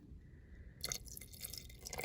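Cornstarch slurry poured into beef stew in an Instant Pot, a brief splashing pour with a few wet drips and trickles after a quiet start.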